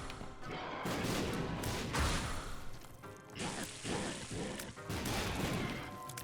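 Explosions in the video game The Binding of Isaac burst in quick succession, a dense run of loud, crashing blasts and whooshing hits that fill the whole stretch with brief dips between volleys.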